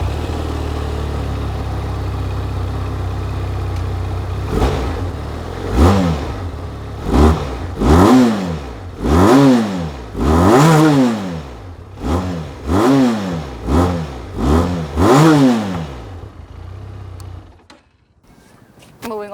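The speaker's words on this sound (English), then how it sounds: "let's hear how both of these sound. First, the Benelli TRK 502." A Benelli TRK 502 motorcycle idles, then its engine is revved about nine times in quick, rising-and-falling blips, loud and close, before it cuts off abruptly.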